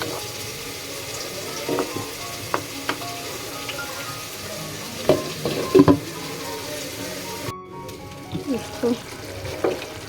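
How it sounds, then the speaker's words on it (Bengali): Vegetables frying in a pan for a quick vegetable fry, with a steady low sizzle and scattered scraping stirs, a few louder clusters of clinks mid-way and near the end. "একটু নেড়ে দিলাম যাতে না লাগে"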